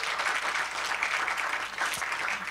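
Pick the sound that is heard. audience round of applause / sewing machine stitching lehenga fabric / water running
audience round of applause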